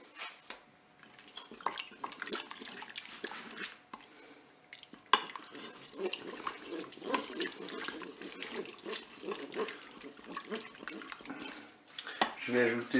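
Crème fraîche being stirred into cod in a Cookeo multicooker, with soft wet scraping and stirring that runs steadily under continuous talking.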